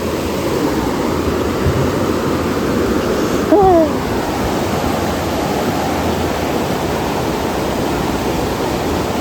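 Flowing stream water rushes in a steady, loud, broadband wash that stays constant throughout, with a brief faint chirp midway.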